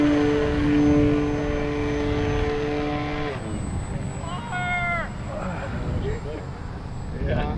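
A small FMS Ranger RC model airplane engine whines with a buzzing, pitch-shifting drone as it flies past at an RC competition, with people talking nearby.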